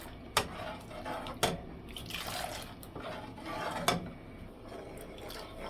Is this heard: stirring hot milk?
yes